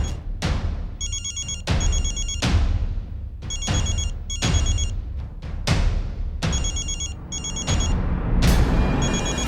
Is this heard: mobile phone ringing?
yes